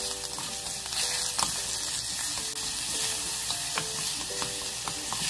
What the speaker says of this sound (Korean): 양파하고 마늘을 먼저 넣어가지고 향을 올려줄게요. 마늘도 큰 스푼으로 1스푼. 잘 볶아주세요.